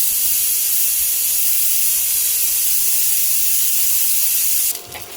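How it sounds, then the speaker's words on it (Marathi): A pressure cooker on the stove releases a loud, continuous hiss of escaping steam that holds for about five seconds before cutting off abruptly, with no talking over it. "बघा एका साईडला आपली शिट्टी झालेली आहे कुकरची."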